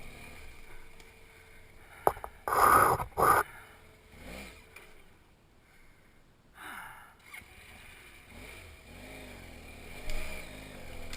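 A BMW F800 GS motorcycle engine surges in two loud bursts of wheel spin on a woodland trail, then drops to a lower idle with a later, smaller rev, close by in the woods.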